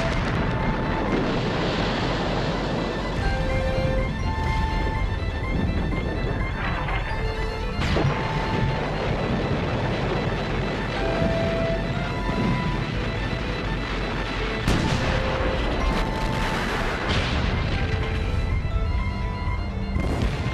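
Dense, continuous rumbling and crashing of an artillery bombardment during the 1918 German offensive of World War One, with layered booms and impacts blending into a sustained roar, some blasts standing out louder.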